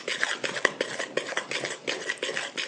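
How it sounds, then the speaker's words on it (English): A spoon mixes molasses, creamed sugar and shortening in a bowl, making quiet rhythmic scraping and clinking strokes at a steady pace, close and fairly soft with no talking. "I'm going to mix it well because the next ingredient that goes in is the flour"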